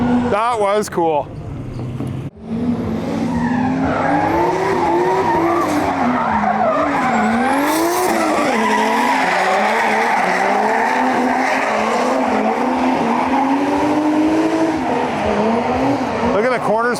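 Grassroots drift cars, one with a 1J or 2J engine, slide through a corner at a Midwest event, tires squealing in long wavering howls over roaring engines, loud and sustained as a commentator talks.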